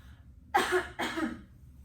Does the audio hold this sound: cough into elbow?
yes